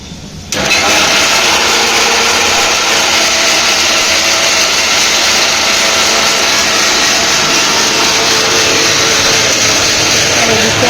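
An electric mixer grinder kicks on abruptly and runs at a loud, steady whir while pasting ginger, garlic and green chilli, continuing without a break to the end.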